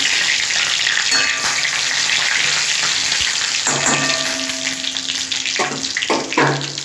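Nigella seeds and five-spice tempering hit hot oil, producing a loud, steady, close-up frying hiss that crackles throughout, with a few brief pops and stirring sounds.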